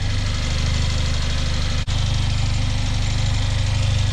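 A tuned Stage 2 Mercedes GLA 45 AMG engine with custom downpipe and high-flow filter idles loudly and steadily while warming up, with a dense rumbling drone and a single brief dip in the middle.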